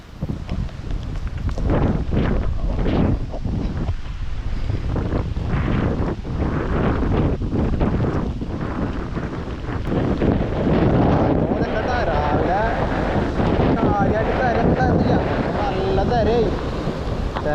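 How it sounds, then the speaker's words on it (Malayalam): Strong wind roars steadily across the microphone alongside crashing sea surf during heavy rain on a coast, with a voice speaking intermittently beneath the blustery noise. "മാത്രല്ല ഭയങ്കര കാറ്റ്"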